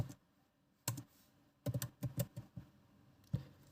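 Keyboard typing while entering code in Laravel 10: a few isolated keystrokes, then a quick cluster of clicks and one last tap, quiet and close, with no talk.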